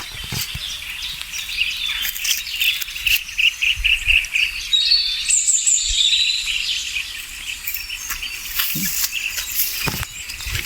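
A colony of bee-eater birds calls together around their nest burrows outdoors, a steady busy mass of high chirps and trills that rises in brief bursts over a constant insect-like background buzz.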